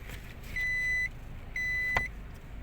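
A car backs up with its reversing beeper sounding two long, steady tones separated by a short gap, fairly faint over a low background hum.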